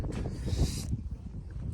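Low, blustery mountain wind in Nepal's Langtang Valley rumbles against the microphone, with a brief hiss of gusting air, close and fairly loud.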